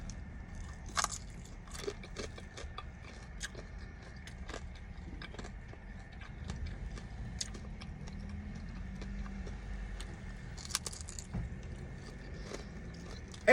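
Someone bites and chews crunchy, hard chicken pot stickers with sweet and sour sauce, making close, irregular crisp crunches and clicks over quiet background noise, with no talking.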